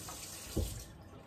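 Juice from an Omega 800 juicer is poured into a container, giving a soft, steady liquid stream with a brief louder splash in the middle, close and alone.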